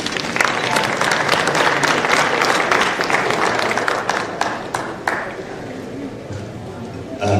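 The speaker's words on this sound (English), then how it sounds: "A clap for him as he comes." An awards-event audience at Istream Africa claps for a man walking up to give closing remarks: full, continuous applause with a few sharper individual claps standing out, gradually thinning toward the end.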